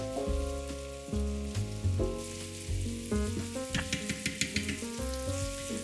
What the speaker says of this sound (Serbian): U luk pre nego što bude gotov sipam 100 ml vode i nastavljam da ga tako kuvam dok višak vode ne ispari